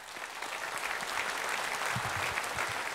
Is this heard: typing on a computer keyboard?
no